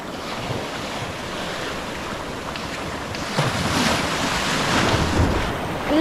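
Ocean waves surge and wash along a shore in a steady, close roar, with wind buffeting the microphone and the surf swelling louder partway through.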